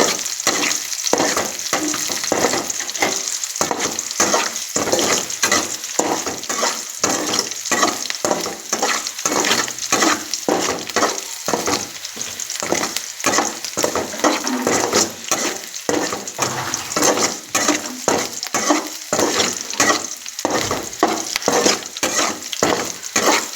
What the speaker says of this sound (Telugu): సేమియా ఉప్మాకు మనం ఆవాలు, ఎర్రగడ్డ, పచ్చిమిరపకాయలు బాగా దోరగా ఎంచుకోవాలి.